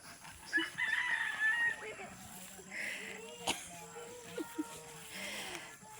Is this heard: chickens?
yes